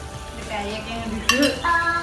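Chicken teriyaki, fried beforehand, gets stirred in a pan, with utensil scrapes and a few sharp metallic clinks over a soft sizzle, close and moderately loud.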